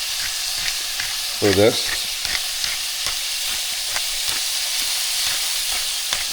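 Chicken fried rice seasoned with soy sauce and ground pepper sizzles loudly and steadily in a hot pan as it is stirred, with soft scraping strokes and a brief spoken voice over the frying.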